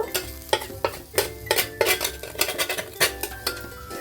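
A spatula stirs spices in a pan for a pea kachori filling, giving a rapid, rhythmic run of close scrapes and clinks against the metal over a light sizzle.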